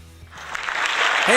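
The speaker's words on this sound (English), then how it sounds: "So give a nice big round of applause for Bruce Goldberg." Applause breaks out for a live show host, starting from near quiet and swelling into loud, dense clapping from an audience, with a rising whoop or voice near the end.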